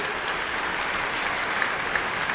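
A cathedral congregation applauds a priest at a patronal feast Mass honoring Saint John the Baptist, producing a steady, even wash of many hands clapping throughout.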